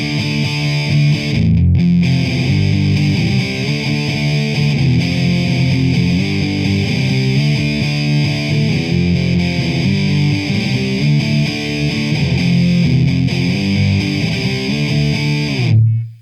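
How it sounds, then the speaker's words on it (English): Heavily distorted electric guitar through a TC Electronic Dark Matter distortion pedal plays a continuous riff, loud and saturated with a buzzing edge throughout, ending abruptly. "it's not a bad sounding distortion, I'll give it that"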